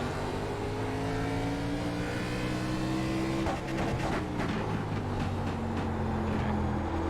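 A race car engine from the iRacing game on the Stafford Motor Speedway oval drones steadily at high revs, then stutters with a series of rapid cuts in the second half as it bounces off the rev limiter, loud and continuous.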